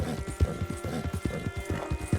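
Horse hooves clip-clop at a steady walking rhythm in Red Dead Redemption 2, the repeated thuds close and even, layered with faint background game ambience.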